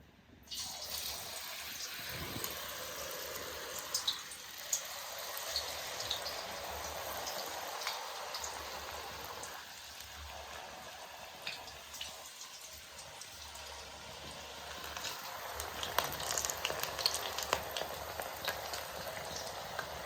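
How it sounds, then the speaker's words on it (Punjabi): French fries frying in hot oil give a continuous soft, bubbly crackle and hiss, fairly quiet and steady with small rising bursts, close by and with no voices. "ਆਪਾਂ ਇਹਦਾ ਤੇਲ ਹੋ ਗਿਆ ਗਰਮ ਆਪਣਾ ਤੇ ਆਪਾਂ ਹੁਣ ਫਰਾਈਜ਼ ਨੂੰ ਫਰਾਈ ਕਰਾਂਗੇ"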